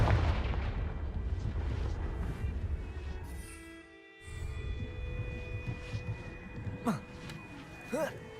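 Confringo spell explosions in the game Hogwarts Legacy, a dense run of booming blasts and crackling bursts with a brief lull near the middle and sharp zapping spell effects toward the end, under game music and some voice.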